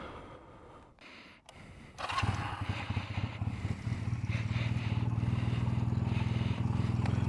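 Custom Honda Rebel bobber motorcycle starting off after a few clunks and shuffles, the engine rising into a steady, loud, close throbbing ride with wind noise.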